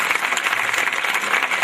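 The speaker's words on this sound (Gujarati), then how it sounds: "આપણે સૌ તાળીઓથી વધાવીએ" An audience at an award felicitation ceremony applauds to welcome an honoree, with dense, steady clapping at moderate loudness throughout.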